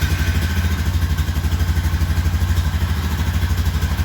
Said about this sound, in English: I'm gonna start it up, let it run for a couple seconds